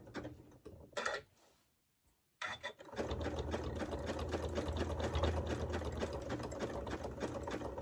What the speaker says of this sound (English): I am just going to do this really simple zigzag stitch because I think it looks pretty neat